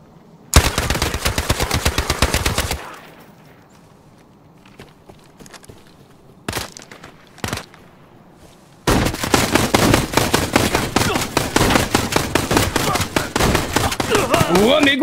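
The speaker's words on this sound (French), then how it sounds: "Ok, ça tire là-bas." Gunfire in the video game Arena Breakout: a long rapid burst of automatic fire, a pause, two short bursts, then sustained heavy rattling fire to the end, loud and close.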